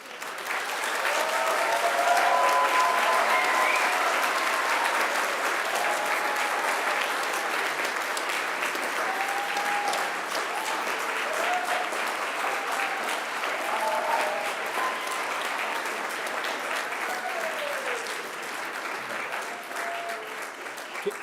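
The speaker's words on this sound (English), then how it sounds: "Please give them a round of applause." Audience at a Macquarie University graduation ceremony applauds steadily for about twenty seconds, a dense, sustained wash of clapping from a large crowd with faint voices mixed in.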